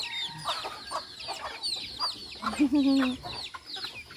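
Chickens cluck near and far around a tree-filled rural yard in Iloilo, Philippines, at feeding time, with a hen's drawn-out call rising over steady chirping from birds.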